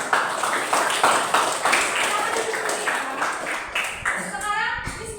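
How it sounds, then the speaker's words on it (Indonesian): Children in a classroom clap together in uneven bursts, fairly close and loud, with a teacher's voice and kids' chatter running over and between the claps. "Oke, boleh beri tepuk tangan ya."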